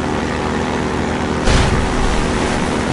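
Hovercraft in Half-Life 2 droning steadily at full throttle, then a sudden broad whoosh and thump about halfway through, as if it lands or hits water, with the engine roar carrying on afterward.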